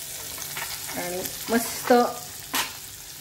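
Curry leaves and onion tempering in hot oil give a steady frying sizzle throughout, with a few short bursts of louder crackle and stirring, while a voice speaks briefly over it in a home kitchen.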